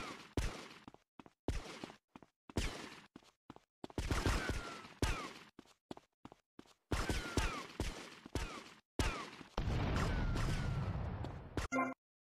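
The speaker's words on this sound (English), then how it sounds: "you guys fucking hear that? That explosion?" Gunfire and blasts, including a helicopter explosion, come from the video game Grand Theft Auto: Vice City, arriving as repeated sharp bursts separated by silences, with a longer rumbling stretch near the end.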